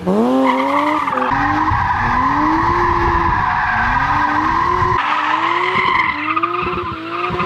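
A 317 hp BMW M3 E36 drifts through Warsaw streets, its tires screeching in long, loud, wavering squeals while the engine revs rise and fall underneath, continuous throughout.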